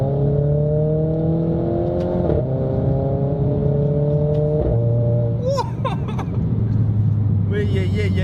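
A Renault Clio 4 RS Trophy accelerates in sport mode, its engine note holding a steady rising drone with gear-change breaks, loud and close from inside the car, with a voice talking over it.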